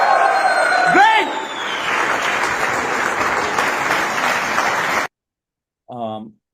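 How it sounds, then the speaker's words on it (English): A conference audience of about 550 people cheers and applauds loudly for several seconds, a dense sustained roar, after a brief voice at the start; the crowd noise cuts off abruptly and a short spoken phrase follows. "So this is like 550 people cheering up my name."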